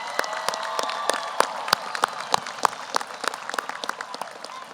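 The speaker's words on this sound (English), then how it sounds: "Let's give them a large round of applause." A graduation audience at a high school ceremony claps for teachers and counselors, a steady crowd of hands with a few sharp, close claps standing out over the dense patter.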